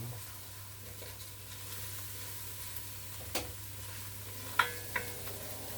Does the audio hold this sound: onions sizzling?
yes